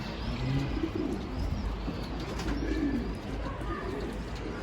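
Soft, low cooing from domestic pigeons over a steady outdoor hum, with a few faint chirps in the background.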